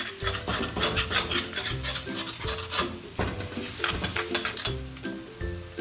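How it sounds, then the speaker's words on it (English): Spice masala with garam masala is roasted in a pan and stirred briskly, giving a rhythmic series of scraping strokes over a steady sizzle, close and fairly loud, with no voices. "Mix everything well till the spices are well roasted for at least 4 to 5 minutes."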